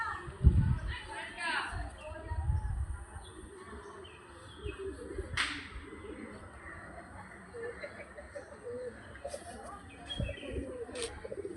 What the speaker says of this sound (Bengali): ভালোই উঠছে পায়রাগুলো।